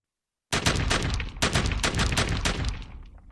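Dense burst of gunfire within Spanish audiobook narration of Mexican soldiers firing, rapid overlapping shots and booms rolling continuously for about three seconds, loud and close with no voice over it.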